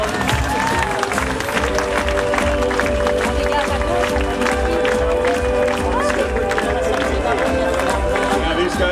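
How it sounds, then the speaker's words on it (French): A crowd at a World Series medal and cup ceremony applauds SoftBank Team Japan, steady loud clapping and cheering mixed with music and an announcer's voice throughout. "On peut encore les applaudir."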